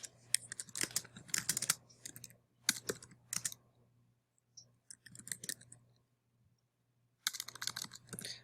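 Typing on a computer keyboard in quiet bursts of rapid key clicks, separated by short pauses, close and fairly soft.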